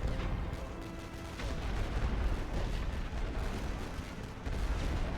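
Artillery fire in The Great War: Western Front game, a continuous rumbling barrage of distant booms and blasts layered into a dense, unbroken roar.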